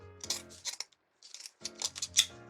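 Scissors snip through deco mesh ties for an Easter bunny wreath swag, a run of close crisp cuts and rustles, then a short pause before another quick series of snips.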